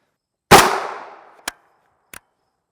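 A loud, sharp FN 5.7x28mm pistol gunshot fired outdoors, with a long fading echo, followed by two brief faint clicks or knocks.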